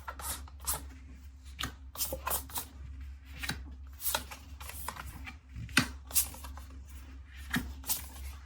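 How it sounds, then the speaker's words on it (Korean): Tarot cards are flipped and laid out on a table one after another in quick, crisp slaps and slides, close and quiet over a low steady hum. "먼저 카드 오픈할게요."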